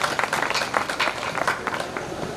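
An audience claps at a Hindi poetry recital, a dense, steady patter of many hands, fairly close and sustained throughout, with no talking over it.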